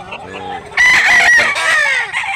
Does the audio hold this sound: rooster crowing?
yes